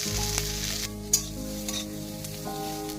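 Boiled taro with green chili, salt and turmeric is stirred in a frying pan, giving a quiet continuous sizzle with a few soft scrapes and one sharp clink.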